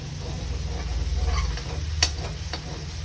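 Spices tempering in hot oil for a cauliflower vegetable curry, a low steady sizzle under the scrape and clink of stirring, with a few sharp utensil knocks near the end.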